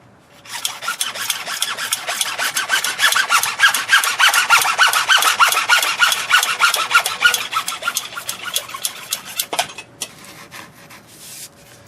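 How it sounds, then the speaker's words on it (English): A hacksaw cuts through PVC pipe for a French drain, a steady run of rapid back-and-forth rasping strokes, close and loud, ending around the ninth second with a few faint scrapes after. "Just put a little mark on there with your hacksaw. Then we're just going to cut it off."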